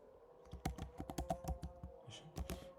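Quick, uneven bursts of close computer keyboard typing as variable names are entered, with crisp key clicks and a few heavier thumps, alone and without speech.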